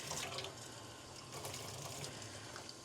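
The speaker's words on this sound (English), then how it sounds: "I'm just going to add a little bit more hot water just to make sure" Hot water runs steadily from a kitchen tap for proofing bread dough, a soft continuous hiss and gurgle at low level, close by with no talk.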